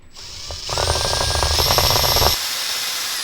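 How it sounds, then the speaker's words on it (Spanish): A loud, close hand-held power drill whines steadily for a couple of seconds drilling metal for a marine engine emergency starting system, with a grinding, rattling edge, then cuts off, leaving a background hum. "a ver si no me reviento la mano ahora al taladrar esto"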